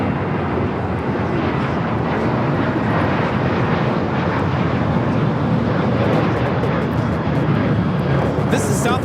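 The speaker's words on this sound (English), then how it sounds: "This is Southwest Airlines 760 taking off to Phoenix on the 737-700" Southwest Airlines Boeing 737-700 taking off from Los Angeles airport, a loud continuous jet engine roar that stays broad and steady throughout, with people talking faintly underneath.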